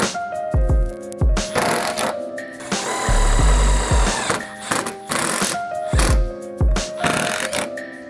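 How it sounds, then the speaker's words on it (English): A power drill whirs in repeated bursts, the pitch dropping as a short self-drilling sheet metal screw bites into a metal solar panel frame and then stopping, close and loud, with no talking. "I started screwing the Simpson hangers to the frame of the solar panel with these short self-drilling sheet metal"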